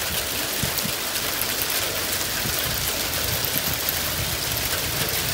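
Hail and heavy precipitation pelting down during a sudden storm in California, a dense, steady clatter and hiss that fills the whole stretch without letting up, close by and fairly loud, with no voices.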